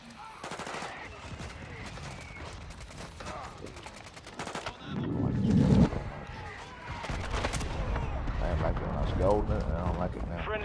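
Gunfire in the Call of Duty Warzone (Modern Warfare II) video game: bursts of automatic fire and shots throughout, with a heavier blast near the middle, mixed under radio callouts and voices.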